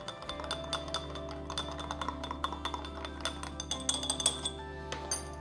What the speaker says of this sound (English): I'll give it a quick little stir.